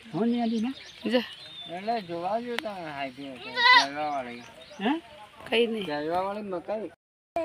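A goat bleats several times in short wavering calls, mixed with a person speaking nearby in a rural outdoor setting.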